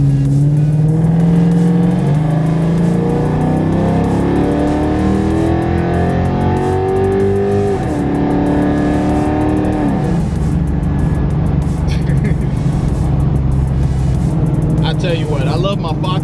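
A car engine revs and pulls hard while driving, its tone climbing repeatedly through gears with a loud exhaust note, as people talk inside the cabin throughout.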